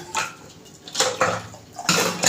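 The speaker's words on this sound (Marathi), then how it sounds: "तर पाणी घालते जेवढे आपल्याला पाहिजे तेवढं" Water pours into a pot of vegetables for sambar in several splashy bursts with short pauses between them, mixed with light clinks of cookware.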